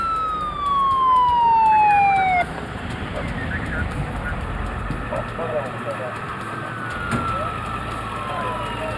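Police and paramedic sirens from the Coquille Police Department speed toward a home, a loud wailing sweep fading after about two seconds into rumbling traffic noise as a narrator speaks over it.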